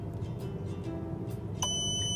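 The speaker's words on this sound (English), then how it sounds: "If you press this one, it makes a beeping noise until it's done." Electronic beeping from a photo enlarger timer: a high, clean tone starts near the end and holds steadily over a faint background hum.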